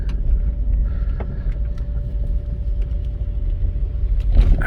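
A 1996 Chevrolet S-10 Blazer with a 4.3 Vortec engine drives along at a steady pace, its low engine rumble and road noise filling the cabin, with a steady tone under it and a brief louder swell near the end.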